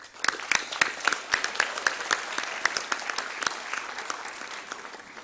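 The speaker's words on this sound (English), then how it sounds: "You deserve a round of applause as well." An audience applauds for parents and families at a National Honors Society induction ceremony, a steady wash of many hands clapping with sharp individual claps standing out, filling the room without any talking.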